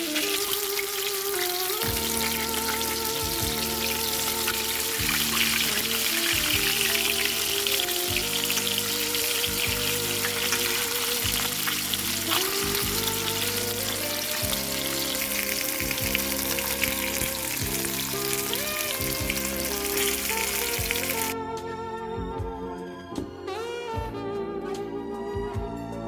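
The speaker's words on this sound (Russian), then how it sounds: "Вот так с двух сторон просто жарим, получается очень вкусно." Carp frying in a pan: a continuous crackling sizzle of hot oil that runs for about twenty seconds, then cuts off, with steady tonal background sounds running underneath throughout.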